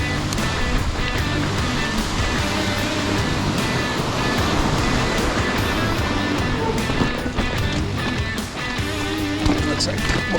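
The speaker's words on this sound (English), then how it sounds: "here's the waterfall" A waterfall roars beside a gravel mountain-bike trail on the Sellaronda tour, a loud, continuous rush of water close by with rattling noise mixed in.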